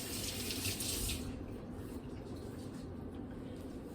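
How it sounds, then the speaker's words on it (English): Running water from a kitchen tap rinses a hand over the sink, a steady broadband splash that is louder for the first second and then settles into a continuous even flow, close by with no talking. "Let me rinse my hand off."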